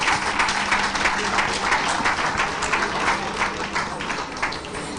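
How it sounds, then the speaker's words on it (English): A temple audience in Melbourne claps after a dance school's performance, with moderate, steady applause and some individual claps standing out across a few seconds. "Can we have another round of applause, please?"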